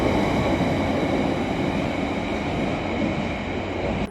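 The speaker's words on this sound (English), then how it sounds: "We're going through the tunnel" London Underground Central line train running through a tunnel on the Hainault loop, a steady loud roar of wheels and motors with a constant hum, no voices.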